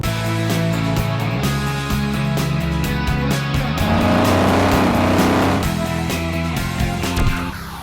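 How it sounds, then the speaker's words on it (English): A 2017 Mercedes-Benz E300 with a 2-litre direct-injection turbocharged four-cylinder drives along, its engine droning steadily and rising in pitch as it accelerates through gears, loud and close with road noise underneath, then easing off near the end. "today I'm driving the new Mercedes-Benz 2017 E300"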